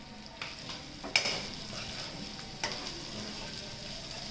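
A spoon stirs salt, turmeric and chilli into corn chevda in a pan, with quiet scraping and a few sharper clicks against a soft background.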